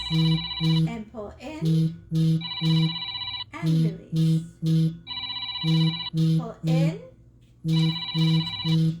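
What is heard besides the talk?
telephone ringing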